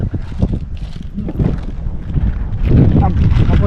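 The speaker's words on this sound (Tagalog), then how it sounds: "Mahangin kasi." Strong wind gusts buffet the microphone at an outdoor picnic spot on a cold day, a continuous rough rumble that swells louder toward the end, with people talking over it.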